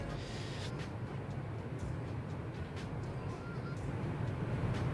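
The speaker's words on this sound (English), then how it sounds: "You'll notice as we get behind the wing, you get this increased airflow sound" Steady roar of airflow and engines in a Boeing 747-200 flown in X-Plane, heard from a cabin position behind the wing: a continuous broadband whoosh with a low rumble, constant in level throughout.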